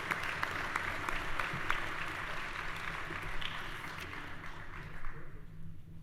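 Sustained applause from a large crowd at a university spring commencement ceremony fills the whole stretch, steady and dense, heard from within the room.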